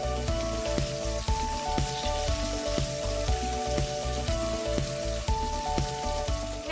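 Thin marinated pork loin skewers sizzle steadily on a hot grill, a constant crackling hiss that runs throughout beneath rhythmic background music.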